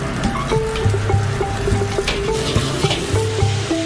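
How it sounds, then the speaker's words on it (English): Fresh vegetables, eggs and shrimp head fat sautéing in hot oil in a Cambodian kitchen: a loud, close, steady sizzle with rhythmic scraping and stirring strokes throughout. "First, fresh vegetables and eggs are sautéed, and in goes the head fat."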